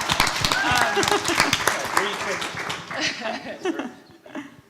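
Audience applause at a panel discussion on brand experiences, a burst of crowd clapping that is strongest at the start and then thins out and fades, mixed with some voices.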